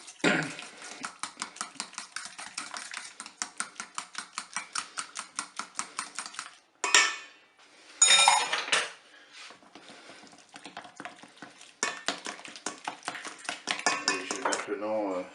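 Crab flan mixture stirred in a Cookeo pot, a quick steady run of utensil clicks and scrapes against the pot, briefly broken by a couple of louder knocks before the rhythmic stirring resumes.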